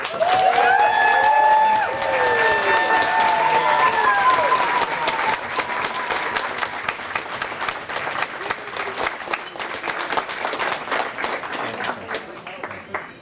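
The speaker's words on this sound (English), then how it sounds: "please join me in a loud round of applause for Tom McCarthy" A breakfast crowd at a St. Patrick's Day grand marshal event bursts into dense, sustained applause with cheering and whistles for the honoree, loud at first and tapering off near the end.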